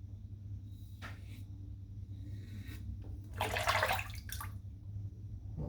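Water splashes and runs in short bursts as shaving lather is rinsed off after a wet shave with a vintage UK-made safety razor blade, set against a steady low bathroom hum.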